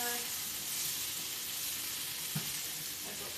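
Tofu steaks searing in a hot pan, a soft continuous sizzle and hiss close by, with a brief bump of movement partway through and no clear talking.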